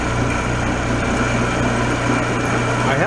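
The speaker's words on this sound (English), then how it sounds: "I have this sander here, and I'll just turn that thing on and show you what I'm going to do." An electric sander switched on for turning down a wooden dowel runs at a steady, continuous high-pitched whir with a low hum beneath, close and constant without speech.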